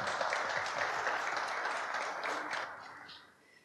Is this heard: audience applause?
yes